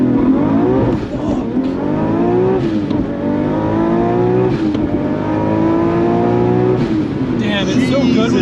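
A Nissan R32 GTR launches hard, its engine revving up through repeated climbing pulls with brief dips between gear changes, loud from inside the cabin, with voices speaking over it.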